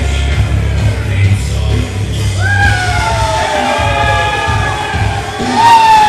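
Crowd at a wrestling match yelling, whooping and cheering for the wrestlers, loud and continuous, with rising shouts and whistles over a dense rumbling roar.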